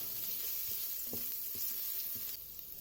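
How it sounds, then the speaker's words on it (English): Spices sizzle steadily in hot oil inside an Instant Pot, a constant hiss with a few soft stirring knocks, fairly close, no talking. "Let the spices sizzle for a bit."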